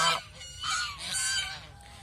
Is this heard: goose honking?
yes